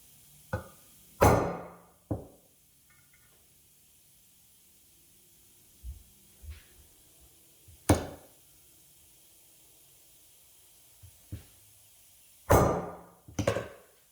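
Several sharp metallic strikes of a claw hammer on a center punch, on a Ford dually truck, spaced irregularly with quiet pauses, including a quick double tap and a close burst of blows near the end.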